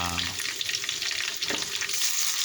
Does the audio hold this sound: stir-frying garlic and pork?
yes